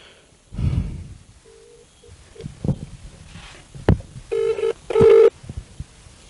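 A telephone rings twice in a row during a call being placed, with short steady ringback bursts near the end, preceded by a breathy sigh and some rustling.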